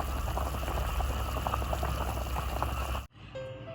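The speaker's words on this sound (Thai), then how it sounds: "ตอนนี้เราก็ ต้มไว้สักพักหนึ่งนะคะ" Bamboo shoot soup with pork belly bubbling steadily in a pot, a dense close rolling boil that runs for about three seconds and then cuts off abruptly into near quiet.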